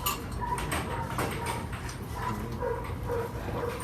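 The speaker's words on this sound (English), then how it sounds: "Got some dogs barking from the apartments across the street." Dogs bark from apartments across the street, faint and distant, a scattering of irregular yaps and whimpers over a steady outdoor background.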